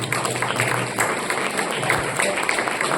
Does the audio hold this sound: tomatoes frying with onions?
no